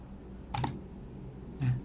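A few sparse clicks from an old DOS-era desktop computer keyboard, close by and fairly quiet, separated by pauses rather than steady typing.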